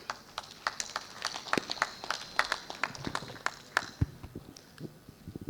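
A crowd at a university graduation ceremony applauds, scattered claps with uneven rhythm that thin out toward the end, fairly faint and distant.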